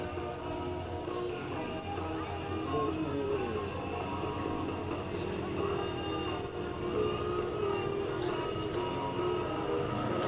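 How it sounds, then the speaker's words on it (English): A Yak 55 aerobatic airplane performs at a 2004 Dover AFB open house airshow, its engine giving a loud, steady drone that holds unbroken across the whole stretch. "Drew's going to take this Yak 55, bring it right down Airshow center line, roll the airplane 90 degrees, and stand it on its wingtip"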